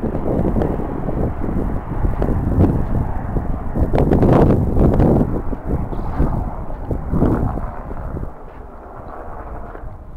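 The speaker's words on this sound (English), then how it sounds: "It's a super windy day. I hope the microphone is not too bad." Heavy wind buffets the microphone on a trail to Chiquito Falls in Cleveland National Forest, a constant low roar with gusty surges and rumbles, easing somewhat near the end.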